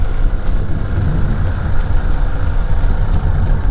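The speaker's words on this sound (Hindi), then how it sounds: "सीधी चढ़ाई है, पहले गियर में जा रही गाड़ी" A car engine labouring in first gear up a steep climb toward Yakbai Top near Fort Munro, a loud, steady low rumble with the engine working hard and no letup.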